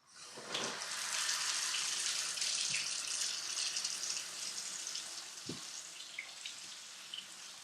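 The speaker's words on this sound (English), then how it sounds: "So the next thing I'm going to do is turn on the warm water." Warm water runs steadily from a sink tap before handwashing in a clinical wound-care setting, a continuous broadband splashing hiss lasting several seconds, with a couple of faint clicks and gradually softening.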